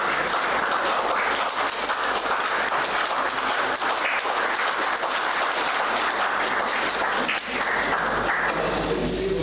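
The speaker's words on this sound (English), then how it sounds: "Please give a round of applause," Audience applause at an international academic conference session, sustained and full, a dense crowd clapping steadily at close range for several seconds with a faint voice briefly underneath.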